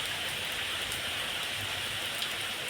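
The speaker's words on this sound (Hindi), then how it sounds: "मतलब काफ़ी ज़्यादा बारिश हो रही है" Heavy rain pours down in Dharamshala, a dense, steady hiss of drops on surfaces that stays even and close throughout, with no voices.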